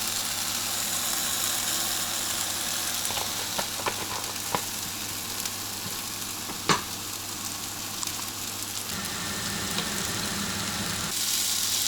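Fish, mushrooms and chives sizzle steadily in a pan of oil flavoured with Szechuan peppercorn, with soy sauce added; a continuous close frying hiss runs throughout, broken by a few sharp clicks and stirring knocks.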